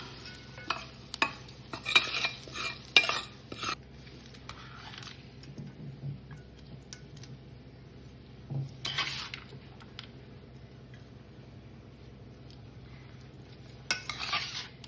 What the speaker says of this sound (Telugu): ఇలాగా బాగా మగ్గిపోయినట్టు ఉసిరికాయ కూర అంతా అన్నంలో కలుపుకుందాం.